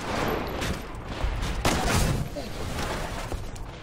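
Rapid gunfire from the video game Titanfall, a dense continuous fusillade with a heavier burst near the middle, loud and close, with a voice talking over it.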